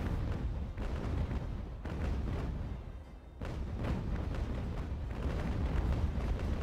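Cannon fire at a ship in the naval video game Ultimate Admiral: Age of Sail, a series of heavy booming broadside volleys rumbling one after another with no speech.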